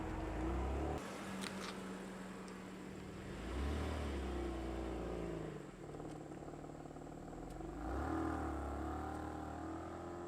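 Lowered car driving slowly through an angled turn, a steady mid-pitched engine hum with gentle rises in revs, close and continuous with no talking.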